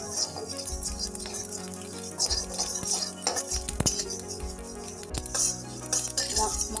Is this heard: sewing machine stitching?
no